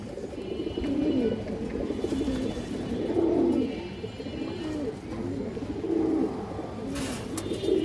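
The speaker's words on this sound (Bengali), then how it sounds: "এই দেখেন লাল গিয়ারের কুর্তি লাইনের কবুতর" Red-geared Kurti line pigeons coo repeatedly at a market, low throaty rolling calls rising and falling close by, with faint background activity.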